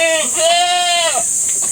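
Goats on a hillside goat farm let out a single long, close, wavering bleat that rings loud and nasal over steady background noise before trailing off.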